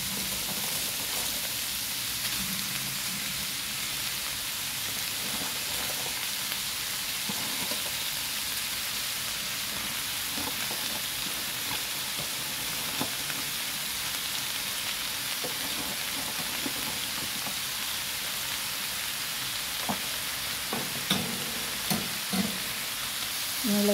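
Cabbage stir-fried with pancit canton noodles, chicken liver and chicken in a pan, a continuous close sizzle with occasional light clicks and scrapes from stirring.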